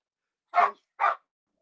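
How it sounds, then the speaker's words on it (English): A dog gives two quick, sharp barks about half a second apart, fairly close and clear against silence, with no talking. "you just had the killer dogs there, ready to go"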